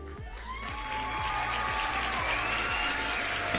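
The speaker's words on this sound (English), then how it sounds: "Can I get a round of applause for that?" Audience applause fills the room, steady and dense from start to finish, with a faint rhythmic low thumping running beneath it.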